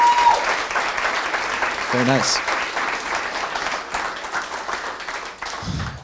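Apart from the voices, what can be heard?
audience applause at a meetup talk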